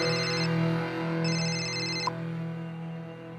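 An electronic telephone ring sounds in two short bursts of rapid beeping over a steady low room hum. It then stops with a small click, and quiet hum is all that remains.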